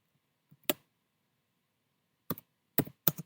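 Keys are struck on a computer keyboard in a quiet room: a lone click, a pause, then a few quick taps, all crisp and close.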